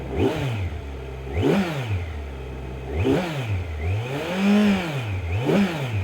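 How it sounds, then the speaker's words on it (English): A Kawasaki Z900 naked sport motorcycle engine revs repeatedly in strong swells, rising and falling in pitch several times, loud and close with no talking. "First thing I want you all to notice is the sound of this bike."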